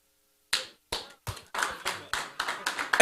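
Hand claps ring out at a church service, first a few separate ones and then a quicker run of about nine claps that picks up in loudness and pace.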